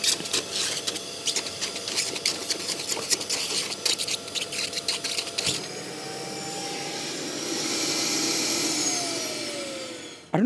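A Kärcher WD5 wet and dry vacuum runs with a full container. Clicking and rattling come first, then a steady motor roar whose pitch rises and shifts, close and moderately loud, with no talking.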